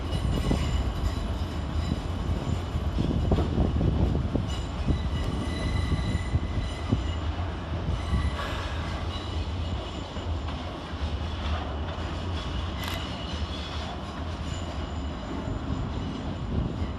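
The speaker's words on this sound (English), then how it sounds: "the departure of 455-866 and 455-727 with the 1324 Southwestern Railway service to Dorking" Two coupled Southwestern Railway Class 455 electric units pull out of London Waterloo, a steady loud rumble of wheels and traction with faint squeals and clanks rising over the long, continuous departure.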